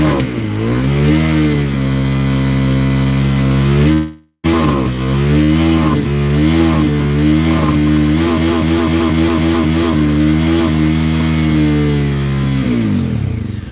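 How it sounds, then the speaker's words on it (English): A motorcycle engine revving hard to high RPM, loud and close, with a steady rising drone, a brief cutoff, then repeated pulsing revs that waver up and down before settling. "When you get it up high RPM, that wah wah wah wah wah you hear?"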